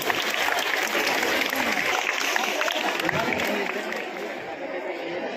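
Loud, sustained applause from a crowd at a village Independence Day celebration honouring a teacher, steady dense clapping with some chatter mixed in throughout.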